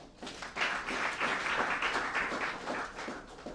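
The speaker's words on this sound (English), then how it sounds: "give them a round of applause" An audience at a spelling bee competition applauds, a fairly faint, even patter of many hands clapping that holds steady for a few seconds.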